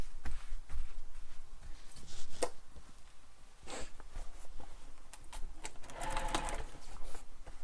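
A sewing machine re-stitches a foam-padded backpack seam in short, uneven bursts mixed with clicks and fabric handling, with one clearer whirring run near the end.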